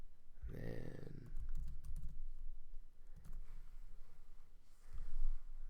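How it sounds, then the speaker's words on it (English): Typing on a computer keyboard, soft irregular key clicks in scattered bursts, faint and close against low background noise. "So you can keep typing until your heart's content."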